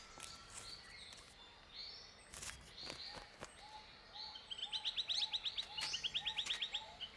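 A juvenile male bowerbird calls at its bower with scattered chirps and whistles, then a rapid run of repeated chattering notes. The calls are close but quiet against a hushed outdoor background.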